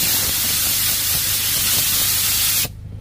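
Diesel fuel sprayed during assembly of an L300 diesel engine, a steady loud hiss running continuously for over two seconds before stopping abruptly, then a brief quieter pause.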